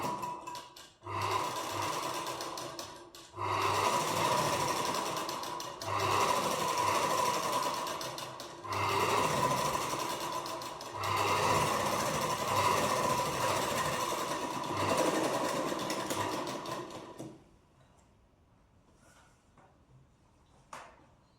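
A sewing machine stitching the lining margin of a blouse runs in several close, loud bursts of rapid stitching separated by short pauses, then stops, leaving quiet handling sounds.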